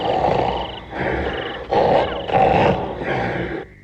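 A cartoon bear lets out a series of loud, close growls and roars in about four bursts, one after another with short gaps, and no talk over them.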